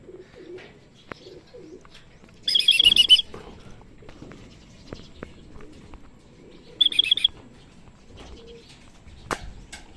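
A racing pigeon arrives at its loft during midtoss training, with two short bursts of flapping and fluttering wings close by, plus light chirps and coos and scattered knocks in an otherwise quiet setting.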